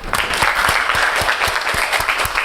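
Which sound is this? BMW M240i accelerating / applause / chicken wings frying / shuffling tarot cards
applause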